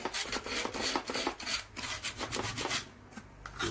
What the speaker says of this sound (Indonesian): rumah baterainya kita bersihkan